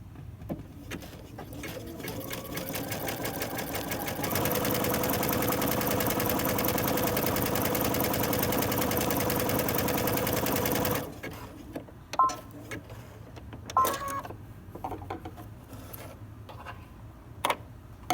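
A sewing machine stitching a standard zigzag through fabric: a steady, loud mechanical whir that runs for several seconds and then stops, framed by quieter clicks and handling of the machine before and after.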